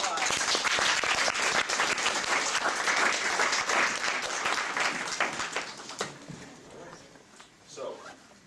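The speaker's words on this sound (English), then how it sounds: "Give him a round of applause." Sustained applause from an audience at an Earth Day student speech showcase, strong at first and then thinning out into scattered claps, with some voices in the room toward the end.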